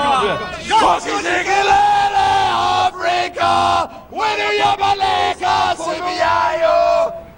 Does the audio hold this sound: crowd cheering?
yes